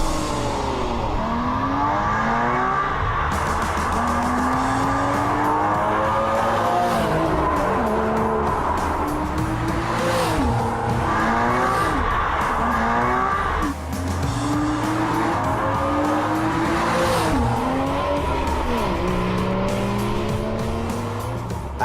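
A modified Porsche Carrera 4S drives hard with its engine revving up and down and repeated loud tire squeals as it skids through turns, continuous and close throughout.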